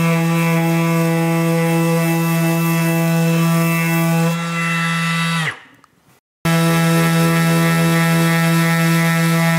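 A Bosch GSS 18V-13 cordless orbital sander runs loud and steady against a dirty wooden plank, with a constant motor whine. It cuts out briefly, then resumes at full strength.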